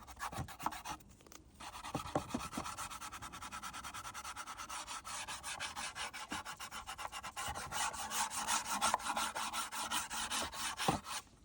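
Splintered pallet wood is hand sanded smooth with steady back-and-forth rasping strokes, close and continuous after a couple of short scrapes at the start, with no talking.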